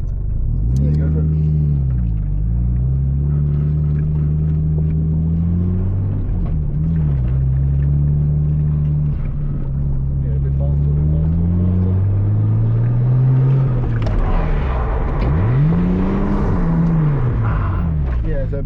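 A car's engine revs hard and rumbles through repeated throttle rises and dips while drifting at a drift school, loud and close, with people talking over it.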